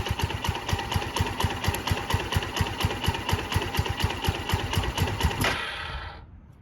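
A 2005 Suzuki GZ250 motorcycle engine idles with a steady, quick, even chugging pulse, loud and close, before cutting out and falling silent near the end.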